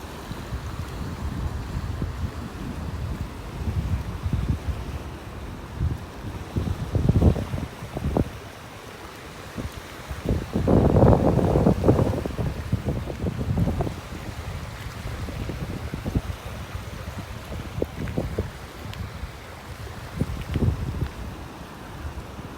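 Gusty wind buffets the microphone on a North Naples, Florida beach, a steady rushing roar with louder swells, no voices.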